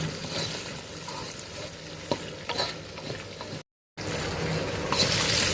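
Pumpkin and potato pieces fry in a pan with salt, giving a constant soft sizzle broken by scraping stirs, with a brief moment of silence partway through.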